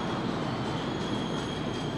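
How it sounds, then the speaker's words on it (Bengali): A Tirupati–Visakhapatnam Humsafar double-decker train rumbles steadily close by at a station, its wheels and carriages making a continuous loud roar with faint metallic squeal, and no voices. "Tirupati Visakhapatnam double decker train."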